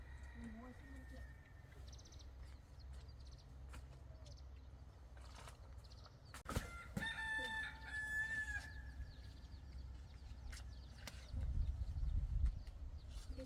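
A rooster crows clearly at mid-distance amid softer chicken clucks in a rural yard, over steady background hum and occasional voices nearby.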